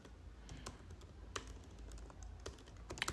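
Someone types a prompt on a Mac computer keyboard: a quiet, steady run of irregular keystrokes with a few sharper taps, heard alone without any voice.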